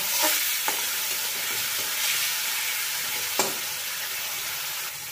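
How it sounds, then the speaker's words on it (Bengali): Ground spices frying and being stirred in a pan with a little water added, for a tilapia fish curry: a steady close sizzle with scraping stir strokes and a few sharp spatula clicks, no talking. "এর মধ্যে সামান্য একটুখানি জল আমি অ্যাড করে দিচ্ছি, মশলাটা একটুখানি নাড়িয়ে চাড়িয়ে ভেজে নেওয়ার জন্য"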